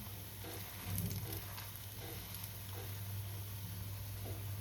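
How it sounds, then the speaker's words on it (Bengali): Cauliflower frying in oil over a low gas flame gives a quiet, even sizzle with faint crackles and a low steady hum beneath, close and without speech. "সেই জন্য গ্যাসের ফ্লেম লোতে রেখে ভাজছি।"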